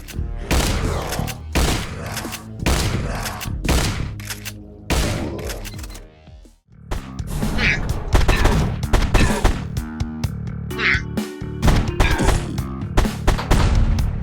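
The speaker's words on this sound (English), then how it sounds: "The shotgun and its reload animation is just chef's mother flipping kiss" Shotgun fire in a retro Wolfenstein-like first-person shooter game: loud, close blasts fire in rapid, irregular succession, with one brief gap about halfway through before the shots resume.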